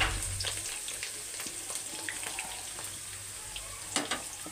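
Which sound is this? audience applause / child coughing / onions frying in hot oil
onions frying in hot oil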